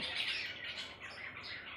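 Small birds chirp and tweet busily from nests built on a money plant at home, a dense, high twittering chorus, close and fairly soft, with no talking.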